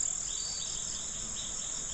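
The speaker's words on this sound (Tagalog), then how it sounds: "talaga naguhunihan ang mga kuliglig" Crickets chirp steadily at dusk on a Philippine eggplant farm, a dense continuous trill that holds an even level throughout with no voices.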